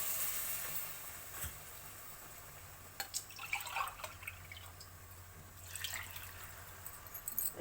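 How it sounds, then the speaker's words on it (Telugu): Coconut milk is poured into a pot of fried rice for coconut rice, giving a soft liquid splash and a faint sizzle that pick up in short bursts, close and fairly quiet. "ఇప్పుడు దీంట్లో మనం కొబ్బరి పాలు వేసుకుంటామండి."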